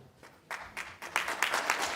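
Audience applause swells at a speech event, starting faint and then rising into a burst of many hands clapping that grows louder and fuller over the last second and a half.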